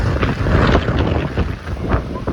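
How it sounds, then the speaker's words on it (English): Steady outdoor wind buffets the microphone with a low, rumbling roar that swells and eases slightly throughout. "It's windy out."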